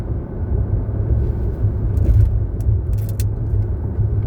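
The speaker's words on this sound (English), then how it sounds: "They probably could hear his car" A car rolls past on a road near a university, its low engine rumble and tire roar holding steady and close for several seconds with no talk.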